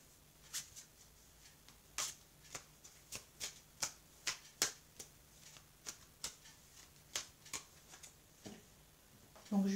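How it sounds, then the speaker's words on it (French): Tarot and oracle cards are shuffled by hand in a steady run of about twenty crisp riffling snaps, close and fairly quiet, with a short louder rustle at the very end. "Je vais battre les cartes."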